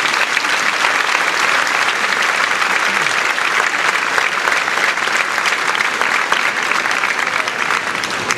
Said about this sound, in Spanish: Y como en todos los 15, lleva un aplauso para los 15 de Martica.